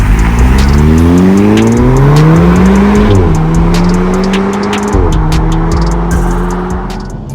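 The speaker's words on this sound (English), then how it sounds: "let's jump in the TTS now, take for a drive" An Audi TTS sports car accelerating hard, engine note climbing loudly through the revs, with two quick gear changes that drop the pitch before it rises again, heard close and continuous.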